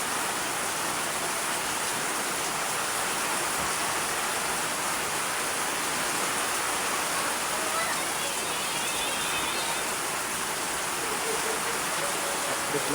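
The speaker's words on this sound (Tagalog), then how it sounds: "wala nang tigil itong ulan ko. May patugtugtog na ng hangin." Heavy typhoon rain pours down with strong wind, a steady dense roar that fills the whole stretch at constant loudness, close and unbroken, with no voices.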